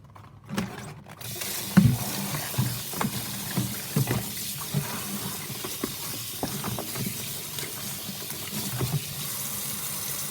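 Cabbage leaves being rinsed under running tap water, a steady close wash of splashing water with occasional handling bumps and knocks, with no talking.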